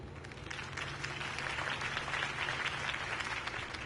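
A crowd applauds steadily after a campaign speech in Batman: The Telltale Series, a dense, even wash of clapping held at moderate level throughout without spoken words.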